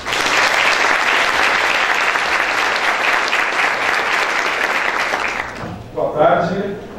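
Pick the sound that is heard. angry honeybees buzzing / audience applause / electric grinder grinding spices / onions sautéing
audience applause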